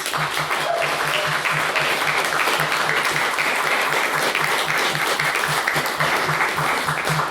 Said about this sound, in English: And can we have another round of applause